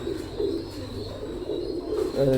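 Pigeons cooing softly nearby at a pigeon sale, low rolling coos repeating over a faint background murmur.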